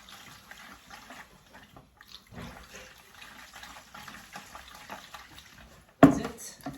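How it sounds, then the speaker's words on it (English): Cold water running from a tap into a container to make brine for piccalilli, a soft continuous splashing and trickling at close range with a louder surge near the end. "I'm gonna top it up with 2 liters of cold water"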